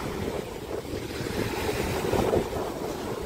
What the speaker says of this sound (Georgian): ცოტა წვიმაც არის, ტალღებიც არის.